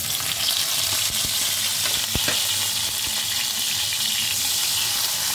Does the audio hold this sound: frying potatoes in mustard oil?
yes